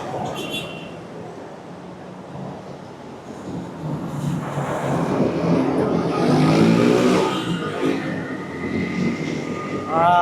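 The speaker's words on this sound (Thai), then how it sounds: "เห็นบ่นี่นะรถแล่นข้างบนนี่" Traffic rumbling along an elevated roadway or track overhead in Thailand, a broad continuous drone that swells louder toward the middle, with a person talking underneath.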